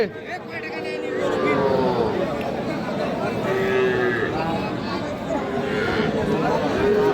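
Cattle low several times, drawn-out moos near and farther off, at a busy cattle market at the Aftabganj haat, with crowd chatter and someone talking throughout.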